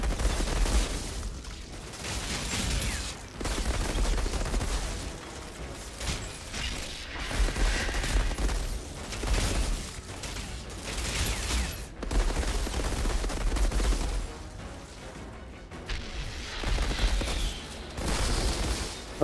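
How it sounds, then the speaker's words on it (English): Gunfire in the video game Outriders comes in repeated bursts of rapid shots mixed with mechanical clatter and impacts, fairly steady over the whole stretch without speech. "I need something for this gun so I don't run out of ammo too quick."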